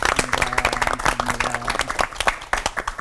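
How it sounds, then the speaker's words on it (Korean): An audience at a televised Christian lecture on the Book of Job claps steadily, a dense patter of applause with a faint tone underneath, lasting a few seconds. "감사의 박수 보내주시죠."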